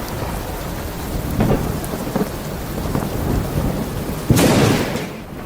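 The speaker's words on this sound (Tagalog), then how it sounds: "Kumidlat at kumulog." Heavy rain pours steadily while thunder rumbles repeatedly, with one loud, near crack and roll late on, no voices over it.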